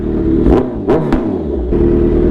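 A Kawasaki Z900 fitted with an Akrapovic GP full exhaust is revved up close, three quick blips rising over a deep idle, with a gruff, rattly engine tone that settles back between throttle stabs.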